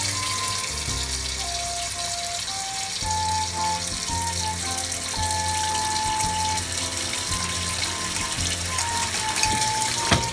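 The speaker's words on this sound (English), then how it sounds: "We're going to fill it up with a little bit of water so that way it can boil." Tap water runs steadily into a cooking pot being filled for boiling macaroni for baked mac and cheese, a continuous close gushing stream with faint clinks and a rising pitch as the pot fills.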